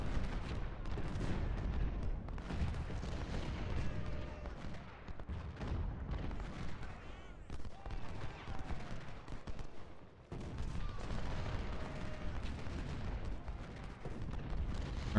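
Civil War-era artillery in Ultimate General: Civil War at the Battle of Nashville: a steady, dense battle din of booming cannon and crackling musketry rolling on without pause, with only a brief dip near the end.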